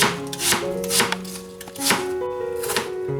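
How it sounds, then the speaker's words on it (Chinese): A knife chops a peeled apple into small pieces for pumpkin-apple soup, four crisp board-striking cuts at a steady, unhurried pace over soft background music. "苹果去皮切小块"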